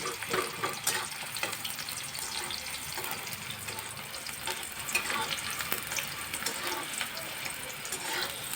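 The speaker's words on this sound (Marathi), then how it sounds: "आपण थोडासा त्याच्यामध्ये एक कांदा घालणार आहोत बारीक चिरलेला। त्याला आपण मस्त छानपैकी गोल्डन कलर येईपर्यंत त्याला आपण परतून घेणार आहोत।" Finely chopped onion frying in hot oil in a home kitchen, a soft continuous sizzle with light stirring scrapes throughout, fairly faint and steady with no talking.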